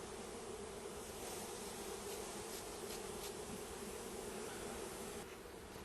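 Honey bees buzz steadily around an opened beehive box during a honey harvest, a constant, soft swarm drone filling the background with no voices.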